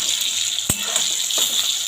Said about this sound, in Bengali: আলুটা দেখো লাল লাল ভাজা হয়ে গেছে